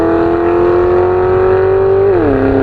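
A 2025 Mazda MX-5 Miata Club (ND3) with an automatic gearbox, revving hard as it makes a pass on a two-lane road, its engine note loud and steady, then dropping in pitch as the revs fall.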